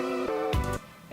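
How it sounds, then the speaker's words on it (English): Guitar chords panned left and right with the drums stripped out, a brief sustained chord, a bright strummed burst, then a quieter tail. "I now have gotten rid of the drums and I've panned the guitar chords left and right"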